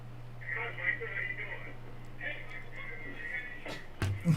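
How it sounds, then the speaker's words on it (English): A telephone sounds with repeated electronic warbling tones over a steady low hum, ending in a sharp click. "Hey, Mike, turn your phone down, would you?"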